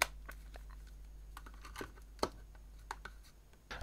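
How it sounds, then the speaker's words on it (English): Sparse, faint keypresses on a USB keyboard used with an old Fujitsu phone running DOS, scattered clicks over a low steady hum with no speech. "I've got a USB keyboard here that I'm going to use to make using DOS a little bit easier"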